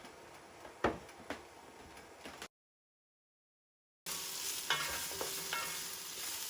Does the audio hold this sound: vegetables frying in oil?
yes